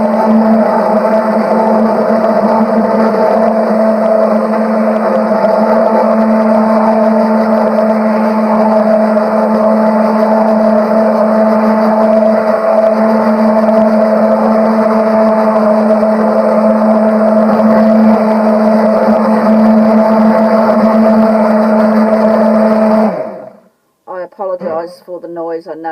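A blender running on high while mixing all-natural liquid soap gives a loud, steady motor whir that drones for about 23 seconds before abruptly cutting off.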